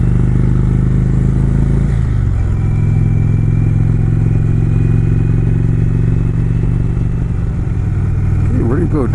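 An Indian motorcycle's engine rumbles continuously along a winding highway, with a brief pitch dip around a gear change and steady road drone afterward; no talking is heard.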